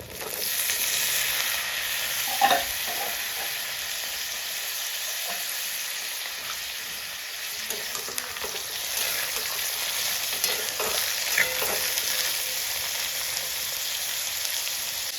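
Chopped potatoes frying with onion in a pan, an even dense sizzle throughout with occasional soft stirring clicks, and no talk.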